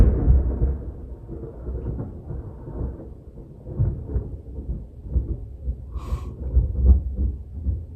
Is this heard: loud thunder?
yes